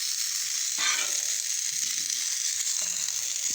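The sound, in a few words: hash browns and sausage sizzling on griddle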